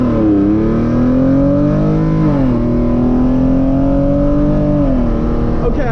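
A tuned Genesis Coupe 3.8 V6 with full bolt-ons launches from about 1500 rpm in manual mode, the engine note loud and close, rising steadily in pitch through a long pull with two brief dips where it shifts.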